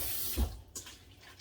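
Water from a kitchen sink tap poured over potatoes in a pot, a brief rushing flow that swells, splashes and then tapers off, with no one talking.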